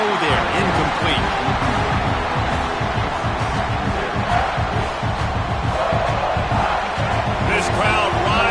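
A dense stadium crowd roars continuously at a college football game in College Football 26, a loud and steady swell of voices with commentary talk mixed through it.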